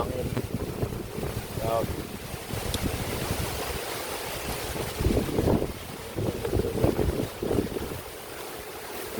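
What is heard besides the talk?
strong wind blowing outdoors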